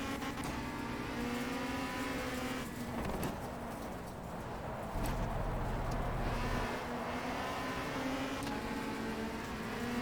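Race car engine in RACE: The WTCC Game at Brands Hatch GP, a steady droning engine tone with shifting pitch and gear changes, held throughout at moderate level.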